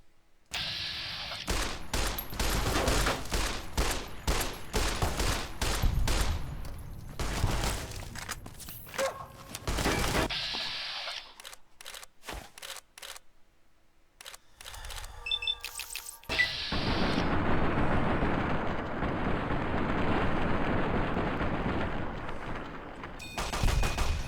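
Shotgun fire in Fallout: New Vegas, with rapid bursts of sharp blasts in irregular clusters, loud and close, broken by brief lulls before another sustained stretch of combat noise.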